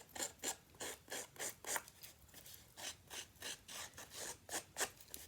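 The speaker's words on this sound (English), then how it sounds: "of my cardstock and just run the blade of my snips" Metal snips scraped along the edge of cardstock to roughen it, a rhythmic series of about a dozen dry rasping strokes, close and fairly quiet, with no talk.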